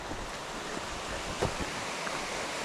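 Creek water flows steadily along a mountain trail in Virginia, a constant rushing wash with no talking.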